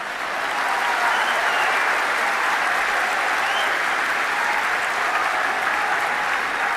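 Audience applause at an Islamic conversion event welcoming new female converts, a dense, steady wash of many hands clapping close by, sustained evenly for several seconds without talk.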